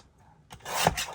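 Scissors or a trimmer slice through cardstock for a scrapbook layout, a short rasping cut that swells and then fades over about a second, close and alone.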